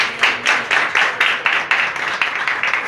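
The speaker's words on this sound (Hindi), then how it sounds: "ताली बजाइए।" A crowd claps together at a house inauguration, a steady run of fairly loud, even hand claps with no voices.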